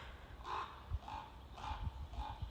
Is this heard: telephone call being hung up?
no